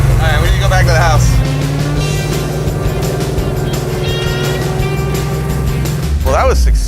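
A vintage circle-track Dodge Charger's engine hums steadily up close as it drives around the block, with brief voices at the start and end.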